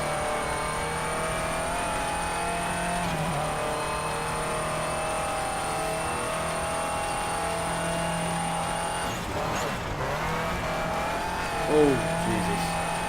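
In Colin McRae: DIRT, a rally car's engine drones at a steady high pitch for a long stretch, shifting briefly as it brakes and turns, with occasional short tyre squeals.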